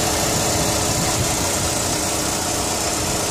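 A turbocharged Chrysler PT Cruiser engine runs loud and close, a dense steady roar with a faint whistling turbo spool layered over the rumble, and no voices.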